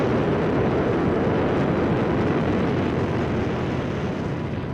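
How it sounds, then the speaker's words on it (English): Britain's first atomic bomb test explodes in archive footage, a loud sustained roar and rumble that holds steady throughout with no voices over it. "This was Britain's first atomic explosion."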